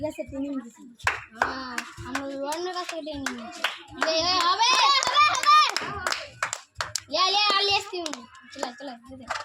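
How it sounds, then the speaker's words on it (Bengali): Children clapping their hands during an outdoor football game of weaving between bottles, quick sharp claps scattered among lively children's voices and an adult calling out over them. "হয়ে গেছে সবাই, হাততালি জোরে।"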